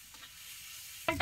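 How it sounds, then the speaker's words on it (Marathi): Onion and tomato frying in oil in a home kitchen, a faint low sizzle through most of the moment before a louder burst of crackling at the very end as something drops into the hot pan. "आता एक कांदा भाजत आलाय, याच्यात टमाट टाकून घेतो."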